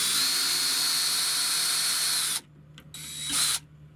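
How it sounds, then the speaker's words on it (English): A power drill with a 5/32 bit bores a pilot hole for an anchor while mounting an outdoor TV antenna, a loud steady whine for over two seconds, then a brief second burst. "I'm going to use the 5/32 bit to make a hole before I put in the anchor."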